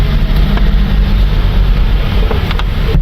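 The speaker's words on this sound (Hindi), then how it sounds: "गाड़ी में बहुत आवाज़ हो रही है क्योंकि उसका सिलेंसर का पाइप जो है ना वो थोड़ा सा डैमेज हो गया है" A car engine with a damaged silencer pipe roars loudly and steadily with a heavy low rumble and rough broadband noise, like a harsh exhaust, continuous throughout with no talking.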